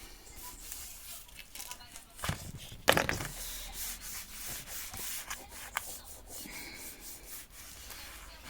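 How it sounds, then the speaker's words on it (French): A tool rubbed firmly along an album cover to mark its folds, soft close scraping strokes repeated irregularly, with one sharper louder scrape partway through. "L'important, c'est marquer les plis."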